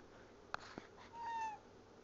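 A house cat gives one short, rising-and-falling meow close by, preceded by a couple of faint knocks in an otherwise quiet room.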